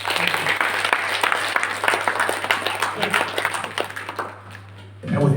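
An audience at an entrepreneurship training session claps steadily for about five seconds, a dense spatter of hand claps that thins slightly near the end before a voice and room noise return.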